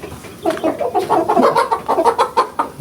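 Hens in a coop cluck in quick, loud, closely spaced bursts nearby, with turkeys and Nyilet chickens kept there, the clucking continuing steadily throughout.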